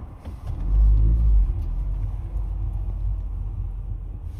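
Road traffic on a Manchester street: one vehicle rumbles past close by early on, then a steady low drone of passing cars continues, with no voices.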